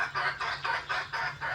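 Hens clucking at midday feeding time while given rice, about six quick bursts of clucking in a steady rhythm, moderately near but fairly soft, with no talk.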